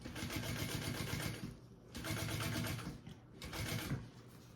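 A sewing machine runs top stitching along a tote bag seam in three steady bursts, each separated by a brief pause, with a fairly loud, close mechanical whir.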